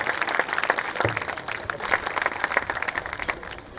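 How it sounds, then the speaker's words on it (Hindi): An audience gives hearty applause to welcome poet Dr. Kamlesh Sharma at a Ram Navami recital, a loud sustained wash of many hands with crisp individual claps standing out, fading slightly toward the end. "जोरदार तालियों के साथ कमलेश का स्वागत।"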